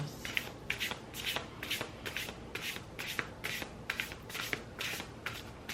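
Playing cards shuffled by hand in a quiet room, about a dozen quick riffling bursts in a steady rhythm, close and fairly soft, with no talk.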